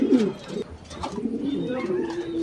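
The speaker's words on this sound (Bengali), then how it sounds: "তো আমরা এখানে এক জোড়া পমানিয়াম পুটার কবুতর দেখতে পাচ্ছি" A pair of Pomeranian pouter pigeons cooing close by in a loft, soft repeated low throaty coos in short bursts.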